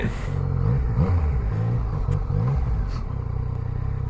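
A Yamaha FZ09 / MT09 motorcycle engine blips the throttle in several quick, uneven revs over a low rumble, close by and moderately loud.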